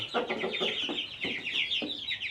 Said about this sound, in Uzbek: Jo'jachalarimiz bor, 6 fevralda chiqqan, rasha 40 kunlik bo'ldi.